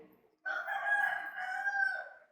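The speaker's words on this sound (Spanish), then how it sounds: "Ya me está mandando a callar el gallo." A rooster crows once near the microphone during a sermon, a single loud, sustained call lasting about two seconds with no talk over it.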